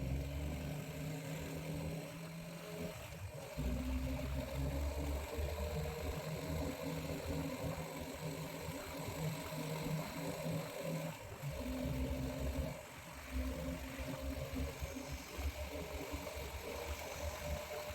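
A motorcycle rides a forested mountain ghat road toward Kotagiri near Ooty, its engine giving a steady, fairly faint low rumble that drones on without a break and with no voices.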